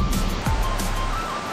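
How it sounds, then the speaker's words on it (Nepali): A small roadside waterfall on the Kathmandu–Nuwakot route flows as a close, continuous broadband rush of water, steady and loud throughout. "यहाँ चाहिँ सानो झर्ना रहेछ।"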